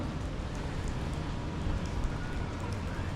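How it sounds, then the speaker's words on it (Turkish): Steady rain falls in Johor Bahru with a dense, even hiss and occasional faint drip ticks, continuous throughout. "yağmur başlamış"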